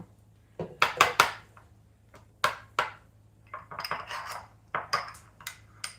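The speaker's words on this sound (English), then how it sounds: "I'm going to stir that together" Spoon scraping and clinking against a bowl while cream for a poblano crema is stirred, a series of sharp irregular clinks and scrapes in bursts, close and fairly loud with no talking.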